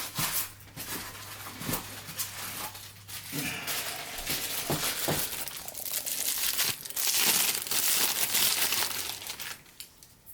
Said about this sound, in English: I'm just going to unwrap all of them